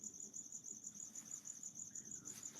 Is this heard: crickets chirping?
yes